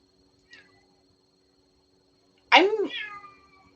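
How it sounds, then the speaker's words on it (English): A house cat meows once softly and briefly, then lets out a louder, drawn-out meow after a pause, close by in a quiet room with a faint steady hum underneath. "My cat is meowing at me."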